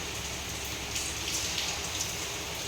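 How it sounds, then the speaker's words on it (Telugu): Heavy rain falls outside, a dense, steady patter with no talk over it. "బయట చూస్తే వర్షాలండి బాబు, ఏం వానలో అసలు."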